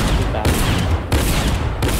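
Shotgun blasts in a video game fire in a dense, loud burst of repeated booming shots, with a brief lull between volleys and no voices over them.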